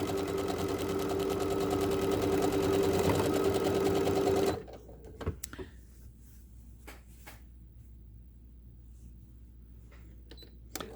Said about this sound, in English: We're going to continue stitching down along the next side.